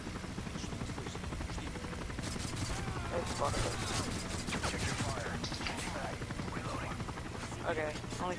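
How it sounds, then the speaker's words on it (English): Helicopter flying overhead in the video game Modern Warfare 3, a steady rotor drone running the whole time with gunfire and game effects layered on top, loud and continuous. "Wait, chopper."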